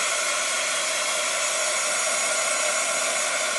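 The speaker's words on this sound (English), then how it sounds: "I'm going to go ahead and dry this a little bit" A dryer blows steadily to dry a chalk paste layer on a vintage truck and buffalo plaid craft project, a loud, constant close whoosh with no breaks.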